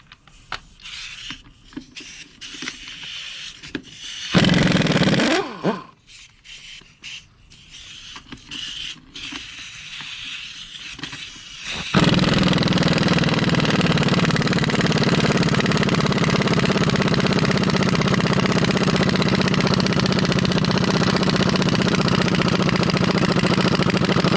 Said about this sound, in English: I have a small compressor, and it just kicked on.